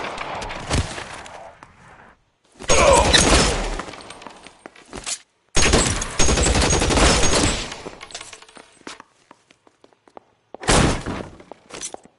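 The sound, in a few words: gunfire in the video game L.A. Noire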